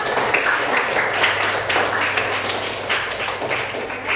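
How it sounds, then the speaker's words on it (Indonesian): A group of students claps for a classmate group in a class session, brisk, even applause from a nearby crowd lasting a few seconds. "Oke, beri tepuk tangan dulu untuk kelompok."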